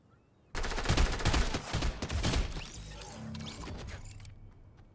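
Gunfire in the video game Fortnite, a sudden loud burst of rapid automatic shots that trails off into rattling mechanical clatter and a fading tail, with no talk over it.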